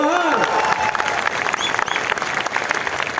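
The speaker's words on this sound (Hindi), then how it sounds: "थोड़ा ताली मार दो भाई।" A crowd at an outdoor political rally claps in a loud, dense burst, with some cheering and scattered voices mixed into the sustained applause.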